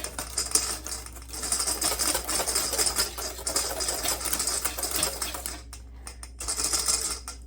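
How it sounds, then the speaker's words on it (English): Light hand whisking of a coffee mixture for cappuccino mousse, rapid soft ticking and scraping strokes in a bowl, close and fairly quiet, steady throughout with brief pauses. "now I'm going to mix that with my whisk lightly"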